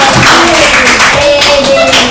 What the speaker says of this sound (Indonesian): Beri dulu tepuk tangan untuk kelompok saya.